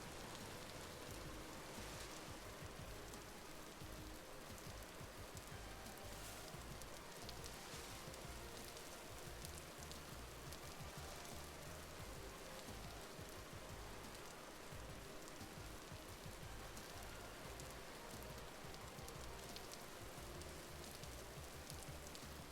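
Rain pours in the video game Vintage Story as an unbroken, dense hiss that holds a constant level from start to finish, with no talking over it.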